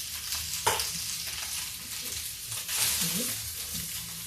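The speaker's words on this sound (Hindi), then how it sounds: "अब गैस को तेज कर देते हैं, और इसको ऐसे ऐसे धीमे धीमे फ्राई कर लेते हैं" Potato tikki patties frying in a pan over raised gas heat, a steady hiss of sizzling oil with occasional soft scrapes and stirring sounds, moderately close and without talking.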